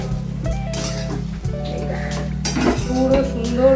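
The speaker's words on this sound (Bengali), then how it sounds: "পুরো সুন্দর করে পুরো ভাতটা আমার নাড়া হয়ে যাচ্ছে" Cooked rice is stirred in a pan on the stove, giving close scraping and clinking of a spoon against metal over a steady low hum, with faint talk in the background.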